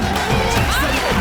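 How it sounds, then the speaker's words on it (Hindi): A TV show studio audience cheers and whoops to welcome comedian Jamie Lever onstage, loud crowd noise with voices and shouts, a brief burst without distinct clapping. "जोरदार तालियां जैमी के लिए।"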